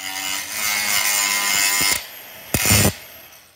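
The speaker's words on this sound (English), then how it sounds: "if there are some welds that need to be ground down, you can do so now" Power grinder working down welds on a van trailer's high base rail, a harsh continuous whine for about two seconds, then a pause and a second short, louder burst of grinding.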